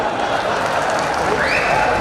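Audience at a Hindi poetry gathering applauds in a continuous, even wash of clapping, moderately loud, with a brief whistle-like tone near the end.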